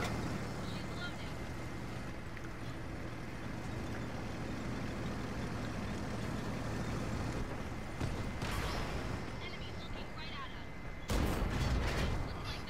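Heavy tank cannon shots boom out in World of Tanks on PS4, a loud blast near the end over constant engine rumble, with players talking throughout.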